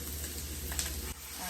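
Ground beef for a cheesy beef and potato one-pot casserole sizzles steadily in a hot pan as liquid goes in to deglaze it. The close, even frying hiss flares briefly midway, then settles slightly quieter near the end.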